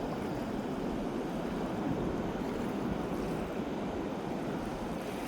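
Sea waves wash steadily onto Patar Beach in Bolinao at low tide, a continuous broad rushing surf with some wind noise, loud and close, with no voices.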